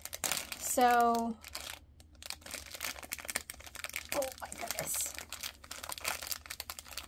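Plastic wrapper crinkling as a Dollar Tree blind bag is opened, a soft close rustle that keeps going, with a person speaking briefly near the start.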